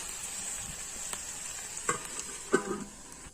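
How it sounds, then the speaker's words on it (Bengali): Jackfruit curry sizzles softly in a pan over a steady frying hiss, with occasional spatula scrapes and stirring knocks, close and fairly quiet, no voices. "সামান্য জল দেব দিয়ে আরও এক থেকে দু মিনিট নাড়াচাড়া করে কষাই করে নিতে হবে"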